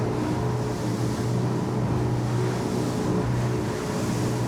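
A Sargo 28 motorboat holds moderate cruise speed on a waterway, giving a steady, loud engine drone with water and hull rush blended underneath, unbroken throughout with no talking.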